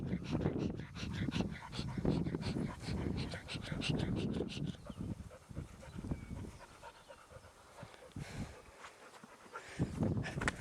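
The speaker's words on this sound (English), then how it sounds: "Are you a happy dog" Ginger, a dog rolling in the grass on a hillside, pants in rapid, close breaths with occasional soft whimpers, while faint voices and rustling sit underneath.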